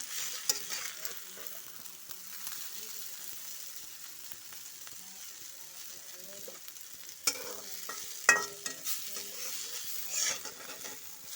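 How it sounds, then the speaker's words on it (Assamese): Bitter gourd slices frying in hot oil in a pan, with a soft continuous sizzle, occasional utensil scrapes and stirring clatter, and a couple of sharper clinks near the end. "তিতা কেৰেলাখিনি ভাজি হৈ গ'ল"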